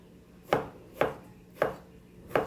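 Four firm knife chops cut through sponge gourd (patola) on a cutting board, evenly spaced about half a second apart, close and distinct against a quiet background.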